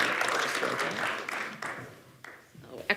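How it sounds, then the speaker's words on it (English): A conference audience at an innovation summit applauds as a speaker walks onto the stage, the clapping loudest at first and thinning out over a few seconds. "please give her a round of applause as she comes up on the stage"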